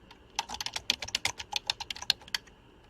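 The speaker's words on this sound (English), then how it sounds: "if I type some non-existent function" Python code being typed on a computer keyboard in a quick irregular burst of close, crisp keystrokes lasting about two seconds, then stopping; no talking.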